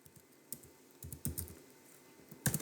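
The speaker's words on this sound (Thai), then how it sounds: "เพื่อนๆ ต้องพิมพ์ค้นหานะครับ" Computer keyboard typing, with irregular clusters of close, quiet key clicks and a few sharper taps separated by short pauses, no voices.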